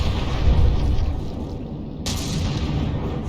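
Naval gunfire barrage from warships in the From the Depths game during a battleship tournament brawl, a dense rumbling stream of heavy booms with a sharp new blast near the end, loud and continuous.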